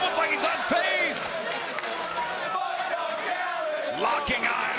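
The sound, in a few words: wrestling arena crowd cheering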